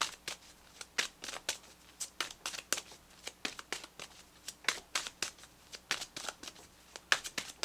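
A deck of tarot cards is handled and drawn in a close, quiet setting. Steady rhythmic riffles and snaps repeat throughout with no talking.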